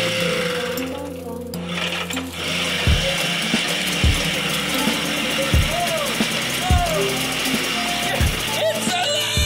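A small moped engine fires up and keeps running with a steady buzzing, ratcheting idle, punctuated by several low thumps, while a person talks over it.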